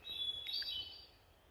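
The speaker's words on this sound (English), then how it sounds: "I'm hearing some bird songs." Songbird calling on a forest trail in Connecticut along the Appalachian Trail, a faint, thin, high chirping phrase of about a second, heard alone over quiet background.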